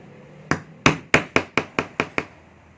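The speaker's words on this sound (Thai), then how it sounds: "ใช้อุปกรณ์การตอกนะครับ เพื่อจะบานหัวให้มันแน่น ตอกย้ำลงไปให้หัวมันบานออก" Eight sharp metallic hammer strikes on a setting tool fixing a snap button, evenly spaced and close, each a crisp tap with a short decay, no talking.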